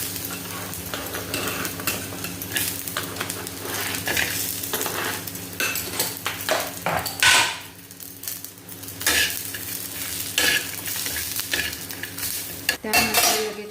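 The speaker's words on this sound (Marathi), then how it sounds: "इथे खोबरं भाजून घेणार आहोत" Dried coconut roasts in a pan for a village-style chicken curry, stirred with a utensil in repeated scraping strokes over a soft sizzle, with occasional clinks of metal on the pan and no voices.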